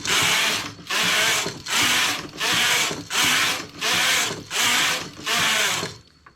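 A domestic knitting machine carriage is pushed across in rows, making seven loud swishing, clattering passes of about half a second each, separated by short pauses, with no talking.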